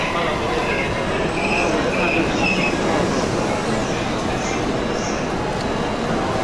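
A train at Hamamatsucho Station platform gives a steady loud rumble with faint wheel squeal throughout, the sound of a carriage rolling or standing at the platform with no voices heard.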